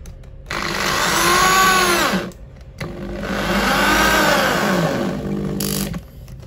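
Power screwdriver driving a screw, its tip lubricated, into hard wood: two loud whirring bursts with rising and falling pitch, separated by a short pause, close by with no talk.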